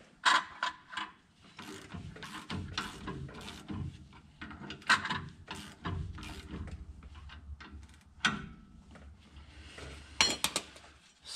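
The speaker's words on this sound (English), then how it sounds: "I'm just going to tighten this down so I can tighten this nut here" Metal clicks and ratcheting as a nut is tightened on an Insta-chain kit on an International 7400 truck, irregular bursts of clanks and turns at close range with quiet gaps between.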